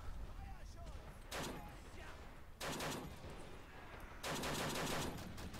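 Bursts of automatic gunfire from a Battle of the Alamo video game, three dense volleys separated by brief lulls, loud and close with faint background game noise.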